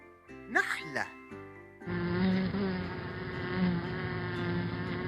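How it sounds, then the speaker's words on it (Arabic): A single word is spoken, then a bee's continuous droning buzz takes over, close and steady for several seconds with slight swells in loudness. "نحلة."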